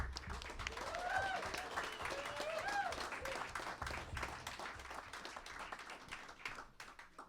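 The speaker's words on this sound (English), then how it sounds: "Everyone should give Kara a round of applause again" A faint round of applause from a small audience at a livestreamed comedy and music show in a recording studio, scattered clapping with a few whoops and voices, tapering off near the end.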